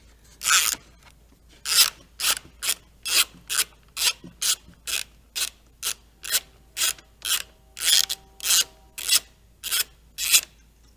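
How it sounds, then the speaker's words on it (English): A 9/16 deep socket on a ratchet works the fairing studs loose on a 2014-or-newer bagger motorcycle, giving a close, steady series of about twenty rasping ratchet clicks in regular bursts. "the next step will be a 9/16 deep socket to get over these studs. And we're going to remove all 4 of these"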